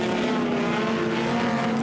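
Race cars battling through Woodcote at the Goodwood Members' Meeting, engines droning loudly and continuously as several cars pass close together.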